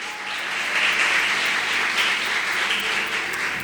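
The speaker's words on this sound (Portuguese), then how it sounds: "Pode aplaudir o Senhor que eu vou beber água." A church congregation applauds during a sermon, producing a dense, sustained wash of clapping from many people that holds steady and close for a few seconds.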